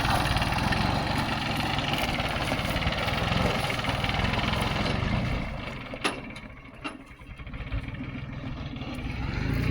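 A tractor engine runs steadily nearby on a village grape farm, a loud mechanical rattling drone that dips briefly in the middle before building again.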